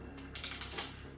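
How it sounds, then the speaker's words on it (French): Stiff plastic blister packaging around a HomePod speaker crinkles and crackles up close in a short burst of rustling handling. "on va écouter le blister"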